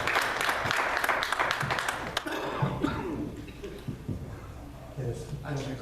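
Applause from the audience at a Sauk Village board meeting fills the opening two seconds with dense clapping, then thins into scattered claps, coughs and murmuring voices in the room.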